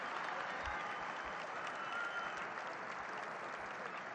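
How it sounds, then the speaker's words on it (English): Spectators at a high school wrestling final applaud two wrestlers after their match, giving a continuous, fairly distant patter of clapping that stays even throughout, with a few low thumps underneath. "you can hear the applause for the 2 wrestlers"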